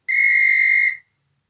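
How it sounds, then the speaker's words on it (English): A railway guard's whistle gives a single loud, steady, shrill blast lasting just under a second, then cuts off into silence. "that sounded like your guard's whistle"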